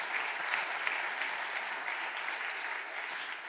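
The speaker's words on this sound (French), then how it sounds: "Oui, on peut les applaudir vraiment et applaudir Rosalie." An audience at a book festival panel claps steadily for the authors, a dense, even wash of applause that holds at the same level from start to finish with no voices over it.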